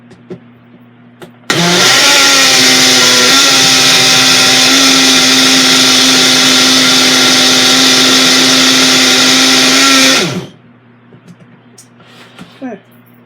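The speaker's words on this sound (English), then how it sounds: "I want it more blended than that. A little more." A Mainstays personal blender whirs loudly while blending a fruit smoothie, a steady high motor roar that starts abruptly, runs about nine seconds with a slight pitch dip, then cuts off, with quiet room sounds around it.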